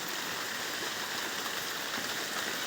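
Light rain falls outdoors in August, a steady, soft hiss of drops continuing evenly throughout with no voices.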